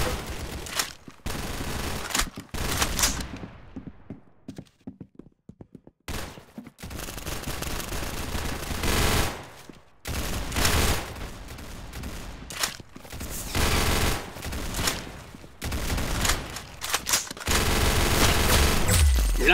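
Rapid bursts of automatic gunfire and single shots crackle loudly in the Roblox shooter Arsenal, coming in long dense volleys broken by short pauses and a quieter stretch.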